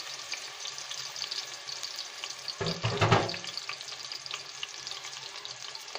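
Sliced onions browning in hot oil in a pot, a steady soft sizzle and crackle with a louder burst of stirring or spattering midway, heard close and alone.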